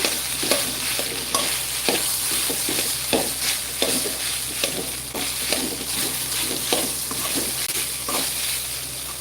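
Crumbled idli being stirred and fried in a pan, with a steady sizzle and repeated scraping strokes of the spoon against the pan at a regular pace, close and continuous.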